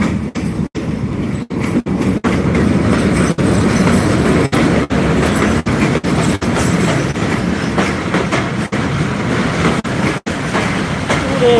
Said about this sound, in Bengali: এই যে নকশি কাঁথা এক্সপ্রেস ট্রেনটা ঢুকে পড়লো